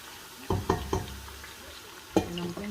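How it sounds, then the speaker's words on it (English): Onions being stirred in a pan while cooking lasagne: a few quick knocks of a spoon against the pan in a burst, then another clunk later, over a quiet low sizzle. "Give it a nice stir."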